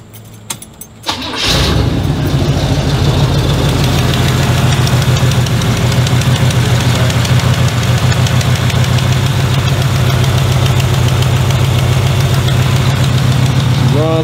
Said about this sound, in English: I'm gonna go ahead and crank it up real fast.